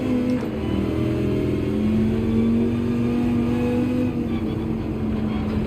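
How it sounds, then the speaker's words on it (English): A race car's engine drones steadily in Gran Turismo 7, its pitch shifting slightly on a downshift, with no talk over it. "Oh, I downshifted way early."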